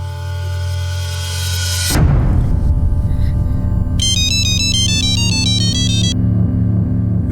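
A phone call is placed and a loud melodic ringtone plays after a burst of noise. A lower repeating ring follows, with a quick run of high tones in the middle, and no voices.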